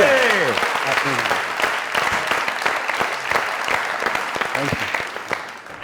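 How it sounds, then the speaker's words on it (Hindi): A studio audience at a comedy show gives loud, sustained applause for Bushra, with dense clapping throughout and a few sharp individual claps standing out. A voice speaks briefly over the start. "जो बुशरा जी के लिए जोरदार तालियां।"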